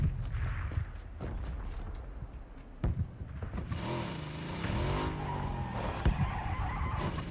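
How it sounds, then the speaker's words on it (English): A motorbike is ridden across the PUBG desert map, its engine whining and rising in pitch over gritty tire and ground noise, with a few sharp knocks along the way. "That's a bike that's not being used."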